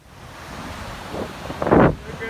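Ocean surf and wind at the shore, a steady roaring wash with gusts buffeting the microphone and a louder wave surge near the end.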